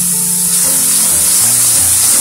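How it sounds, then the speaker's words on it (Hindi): Masala with Kashmiri chili, salt and garam masala fries in oil for paneer kofta gravy, giving a loud, continuous close-up sizzle with no talking. "इसको हम बढ़िया अच्छे से भूनेंगे जब तक हमारा तेल ऊपर दिखाई ना देने लगे"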